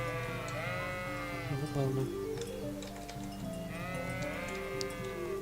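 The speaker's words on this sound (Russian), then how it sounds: "Тропа ведет нас к овцам." Sheep in the video game Kingdom Come: Deliverance bleat in long wavering calls, one near the start and another toward the end, over a steady background hum while someone speaks briefly.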